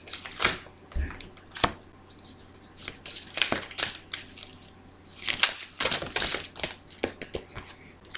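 A deck of tarot cards is cut and handled for a reading, giving a run of close, crisp papery slaps and riffles in irregular bursts, with a quiet room behind.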